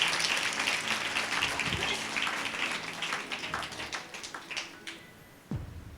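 Church congregation at a Sunday service clapping loudly together in a dense burst that thins and fades over several seconds before a final thump.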